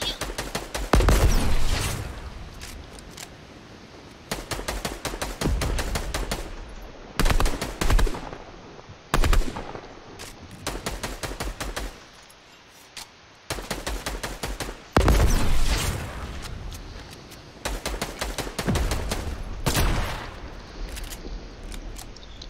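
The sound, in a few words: gunfire and rocket launcher in the video game Fortnite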